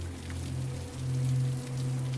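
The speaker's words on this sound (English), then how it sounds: "watch the rain cascade down the windows" Steady rain running down windows during a tropical storm, a soft continuous wash with a low hum beneath, close and even throughout with no talk.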